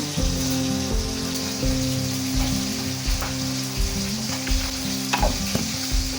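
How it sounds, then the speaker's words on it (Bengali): Bata fish frying on one side in a pan, a close, crackling sizzle with fine popping spatters over a rhythmic low pulsing hum from the stove. "মাছটা একদিকে ভাজা হোক"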